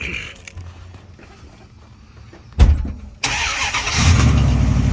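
A quiet pause, a sharp clunk, then a second-generation Dodge Ram pickup engine with a newly replaced muffler cranks and catches, settling into a loud, rough idle that swells slightly.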